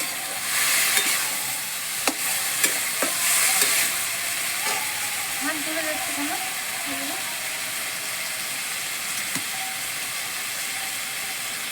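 Ground spices stir-fried in hot oil for an elephant apple (chalta) pickle, giving a steady sizzling hiss with a few spoon scrapes and clinks near the start, and someone speaking over the cooking.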